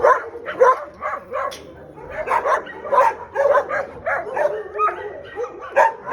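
Several dogs at an animal shelter in the Bahamas bark and yip repeatedly, overlapping in a noisy chorus, fairly close and loud, with some whimpering mixed in.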